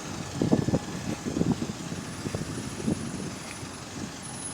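An Enviro bus, SLN 36561, on driver training, with its Voith transmission: a low engine rumble swells in uneven bursts over a thin, steady high whine.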